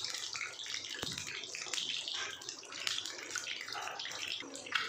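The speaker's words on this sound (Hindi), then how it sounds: "ये देखिए फ्राई होने लगे हैं।" Boiled eggs frying in oil over a low flame, giving a steady hiss and crackle that runs through the whole stretch, with a sharp tap near the start and small pops scattered throughout.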